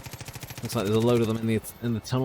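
Rapid MP5K submachine gun bursts in Far Cry 5 open with evenly spaced shots, then carry on under a man's loud, close commentary.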